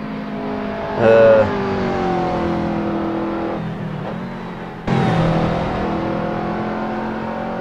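A McLaren MP4-12C GT3 race car drifts in the Assetto Corsa racing game on the St-Jovite circuit at Mont-Tremblant. The engine drones steadily with tonal whine and gear shifts, plus a brief louder burst near the start.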